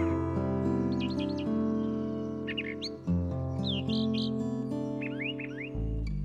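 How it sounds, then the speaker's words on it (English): A blue jay at a backyard bird bath gives short, repeated chirping calls in scattered bursts over a steady musical background. "here we have a blue jay coming in for a quick dip in the bird bath"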